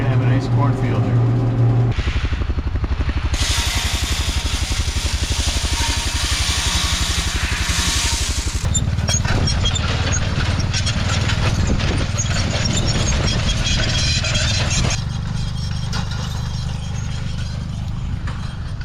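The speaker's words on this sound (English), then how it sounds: "pulling the John Deere Van Brunt seeder with a mixture of sorghum and soybeans" A tractor pulling a John Deere Van Brunt seeder sowing a sorghum and soybean mix across a food plot, with a continuous loud engine drone and rattling machinery that shifts in tone partway through, no talk heard.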